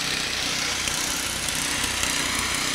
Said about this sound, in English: The snow blower getting rid of all the snow.